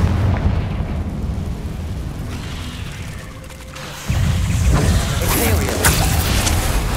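Confringo fire-blast spell from the game Hogwarts Legacy, a booming burst that swells abruptly and sustains over a rumbling, mechanical battle bed, with game voices in the background.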